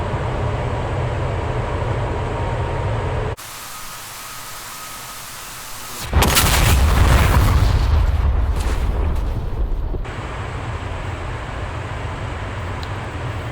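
A JDAM bomb released from a jet in the combat flight simulator DCS. Steady engine drone cuts to a quieter hum, then a loud rumbling whoosh swells and holds for several seconds before easing back into the engine drone.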